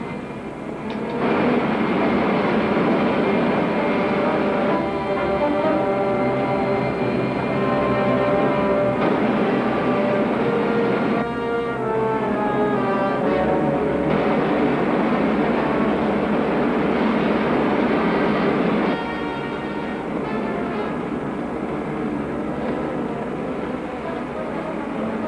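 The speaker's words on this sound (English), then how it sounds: "Fire main jet." The main jet engine of a rocket ship fires with a loud, continuous roaring rush that holds steady for about twenty seconds before easing slightly, with no voices over it.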